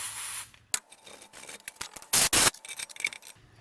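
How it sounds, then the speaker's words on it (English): Brake cleaner sprayed into the holes of a brake caliper during a 2006-2018 Toyota RAV4 brake job, two short loud hissing bursts up close among scattered scraping and clicking handling sounds. "Toss a little brake cleaner in the holes."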